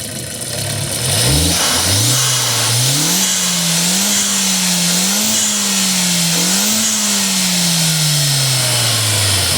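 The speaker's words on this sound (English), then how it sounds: "Give her some revs again so I can get the turbo spray noisies." A 2002 VW Passat 1.8T turbo four-cylinder, freshly engine-swapped, revs repeatedly from idle, its loud engine note climbing and falling in several rhythmic waves before settling back down, with faint turbo whooshes between revs.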